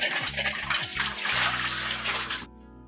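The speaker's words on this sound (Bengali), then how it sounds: "এখানে নিচ্ছি ব্যারেলের জল ঢেলে নিচ্ছি" Water poured from a barrel, a steady splashing gush with sloshing and a low hum underneath, running continuously before cutting off abruptly near the end.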